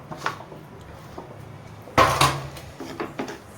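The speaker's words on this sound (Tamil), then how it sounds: "இப்போ நம்ம உருளைக்கிழங்கு போடுவோம்" Potatoes tipped into a pan of sautéed onions land with a loud clattering burst midway, followed by a few lighter knocks and scrapes against the pan.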